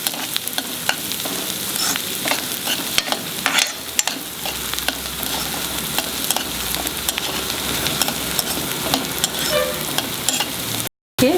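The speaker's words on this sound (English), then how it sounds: "Fry the onions till they become semi-brown color, not too much brown." Onions frying over a medium flame in a pan for a prawn sukke masala, stirred steadily: a continuous close sizzle broken by scraping spoon strokes, running alone without talk and cutting out briefly near the end.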